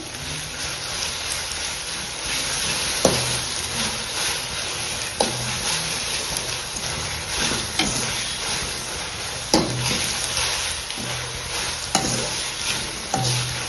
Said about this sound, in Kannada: ಶುಂಠಿ ಬೆಳ್ಳುಳ್ಳಿ ಪೇಸ್ಟ್ ಆ್ಯಡ್ ಮಾಡ್ತಾ ಇದ್ದೀನಿ, 1 ಸ್ಪೂನು